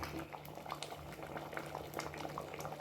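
Mixed vegetable sambar boils in a pot with a steady, faint bubbling and popping, close by and uninterrupted.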